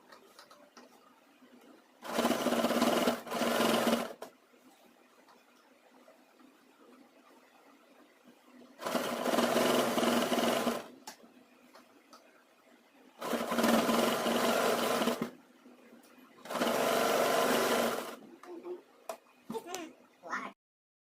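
A sewing machine stitches a girls' uniform skirt in four separate bursts of running, each lasting about two seconds, with quieter gaps between them where a voice talks.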